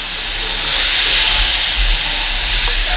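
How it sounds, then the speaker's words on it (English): Whole milk pouring into a pan of cheesy gravy for an Italian layered meatloaf, a steady soft liquid rush that runs the whole time without a break. "got to get some whole milk here and gently pour that in"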